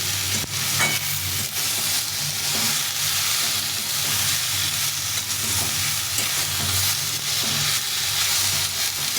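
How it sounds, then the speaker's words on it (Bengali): Tomatoes with salt and turmeric powder fry in hot oil for a fish curry with bitter gourd and drumsticks, giving a steady close sizzle broken by repeated scraping stirs of a spatula, with no talking. "আর হলুদ গুঁড়ো দিয়ে আবার একটু ভেজে নেব"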